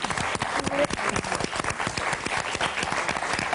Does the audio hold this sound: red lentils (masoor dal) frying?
no